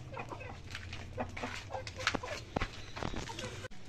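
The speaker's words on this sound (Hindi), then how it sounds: "तो ये बैठ गया है मुर्गा वाइट हीरा खाने के लिए।" A white Heera rooster clucks steadily while pecking at millet poured into its feeding pan, with footsteps and faint voices nearby.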